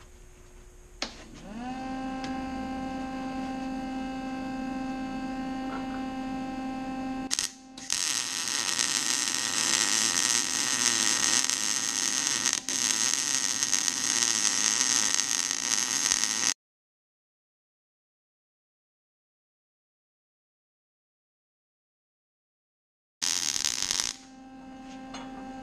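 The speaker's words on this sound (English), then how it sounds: "I'm going to roll it as I weld." An electric welder buzzes and crackles steadily while welding around a 9-inch rear end housing that is rolled during the weld, a loud continuous hiss broken by a long silent gap and a short final burst.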